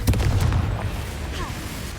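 Confringo, a fiery explosion spell, goes off in the video game Hogwarts Legacy as a deep, rumbling boom that starts loud and then fades into a low tail over about two seconds.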